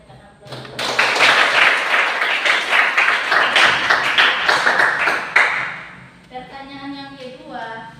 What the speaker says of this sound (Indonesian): Tepukan aplaus.